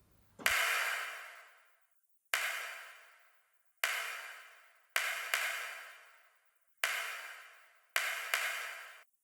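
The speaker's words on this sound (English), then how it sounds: "I have these sounds of me messing around with a deck of cards" A deck of playing cards being handled, giving six soft percussive riffles or snaps spaced irregularly, each a quick burst that fades away, close and isolated with no talking.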